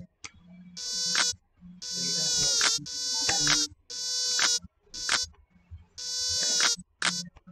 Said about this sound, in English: Kill the mosquitoes before it's too late.